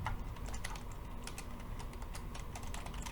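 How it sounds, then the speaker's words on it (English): Fingers tapping out a username and password on a computer keyboard, a steady run of light, quick key clicks at low volume with no voices. "I'm going to type in my username and password here"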